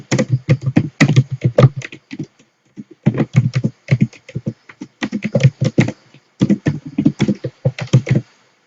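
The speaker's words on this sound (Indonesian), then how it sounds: "Kemudian kita ketikkan pertanyaannya." Fingers type on a computer keyboard, close and clear: rapid bursts of clicking keystrokes separated by brief pauses, steady throughout with no voices.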